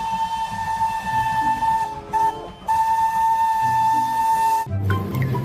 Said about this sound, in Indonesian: Lihat teman-teman, ada kereta api Thomas.